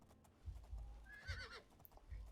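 A horse in the video game Oblivion whinnies loudly over clip-clopping hooves, a single rising and falling neigh set among steady hoofbeats.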